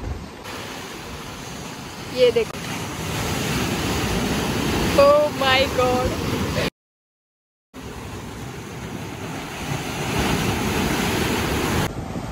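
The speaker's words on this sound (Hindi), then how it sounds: "पानी का आवाज़ सुनो, मैं आपको दिखा दूँ" Sea waves surge and crash against the stone walls of Sindhudurg Fort, a continuous loud roar of surf and wind close to the microphone, with a brief exclaiming voice over it and a short dropout midway.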